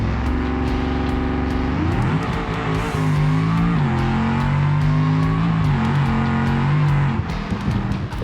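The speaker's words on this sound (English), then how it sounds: "mid-7 second 180 mile per hour blast down the drag strip" A Bluebuck drag car in BeamNG blasting down a drag strip at about 180 mph, its engine a loud steady drone that shifts up through gears, with pitch steps and short ticking bursts, close and alone.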